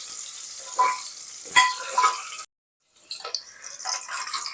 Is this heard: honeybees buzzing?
no